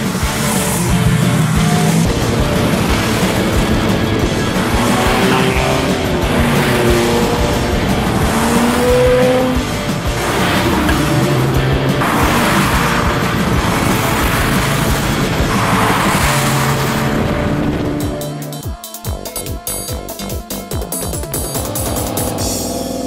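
TVR sports cars tear through a timed run at a 2013 Swiss owners' meet, loud engines roaring and swelling as cars pass one after another, with the noise dropping away into scattered clicks near the end.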